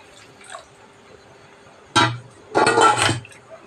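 Rinse water from a mixer jar is poured into a simmering Sankara fish curry, with a short splash and then a longer, louder stream of pouring near the end, after a quiet start.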